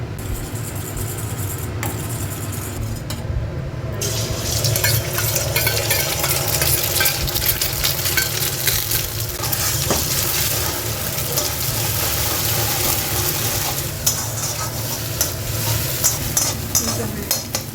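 Two beaten eggs sizzle and fry in white oil while being stirred in the pan, a steady close hiss with scraping, continuing throughout.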